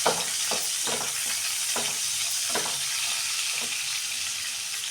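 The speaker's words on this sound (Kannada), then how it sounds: "ಈರುಳ್ಳಿ ಹಾಕ್ಬಿಟ್ಟು ಸ್ವಲ್ಪ ನಾವು ಎಣ್ಣೆಯಲ್ಲಿ ಇದನ್ನು ಫ್ರೈ ಮಾಡ್ಕೋಬೇಕು" Mustard seeds and chopped onion fry in hot oil with a constant hissing sizzle, overlaid by a series of scraping stirring strokes roughly every half second.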